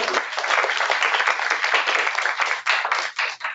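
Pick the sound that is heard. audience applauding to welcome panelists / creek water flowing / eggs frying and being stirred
audience applauding to welcome panelists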